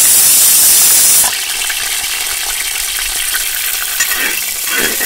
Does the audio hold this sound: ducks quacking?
no